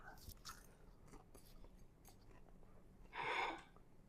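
Crunchy air fryer potatoes seasoned with Vegeta are bitten and chewed close by, a few quiet crisp crunches with a louder crunching burst near the end.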